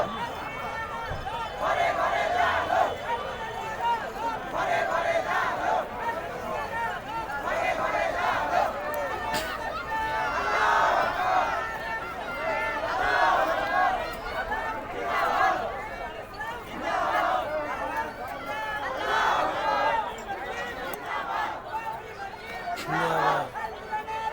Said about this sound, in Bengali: নারায়ে তাকবীর, আল্লাহু আকবার করছে।